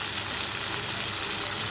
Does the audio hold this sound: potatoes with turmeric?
yes